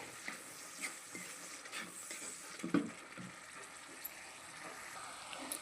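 Ginger chutney fries in peanut oil with a faint, steady sizzle, broken by occasional soft clinks and stirring sounds close by.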